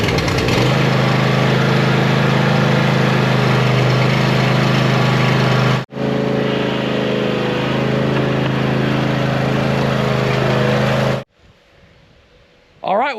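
A small gasoline lawn mower engine, started cold on the choke, runs loudly and steadily at close range with a steady drone, cuts out briefly, runs on, then stops, leaving near silence before a final burst of noise.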